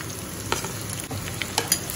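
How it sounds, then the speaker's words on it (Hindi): Chopped onion tossed into a pan over ginger and garlic already fried golden, cooking for a chow mein. A steady close sizzle with a few brief utensil clinks and stirs on top, and no talking. "प्याज को भी हल्का सा फ्राई कर लेना है।"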